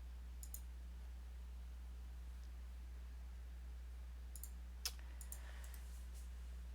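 A few scattered key clicks from a Cherry point-of-sale keyboard, faint and sparse, tapped in small clusters against a low steady electrical hum and quiet background hiss.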